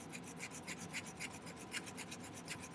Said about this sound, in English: I'm going to remove the excess solder that's on the inside.